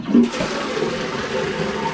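A hotel bathroom toilet in Interlaken, Switzerland flushes with a strong, rushing gush of water that starts abruptly and keeps surging, loud and close in a small tiled room.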